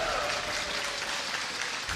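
Esports arena crowd at an EU LCS 2018 Summer Split match between Schalke 04 and H2K, a sustained roar of cheering and applause washing through the hall for about two seconds.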